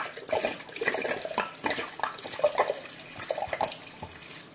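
Red wine poured into a pot of beef bourguignon with bouquet garni, a soft splashing and gurgling stream heard close and fairly quiet, unbroken for a few seconds with no talking.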